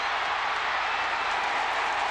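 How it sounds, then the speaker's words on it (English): A packed football stadium crowd in Lexington roars at a Kentucky home game against Tennessee in 2001, a dense, steady wall of cheering that holds at full strength throughout without letting up. "And the crowd loves it in Lexington."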